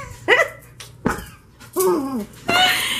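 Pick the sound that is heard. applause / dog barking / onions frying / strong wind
dog barking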